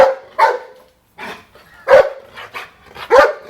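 A dog barks in repeated short bursts, loud and close, in a shadow puppet staging of a folk tale about a farmer's dog scratching at the ground under a tree.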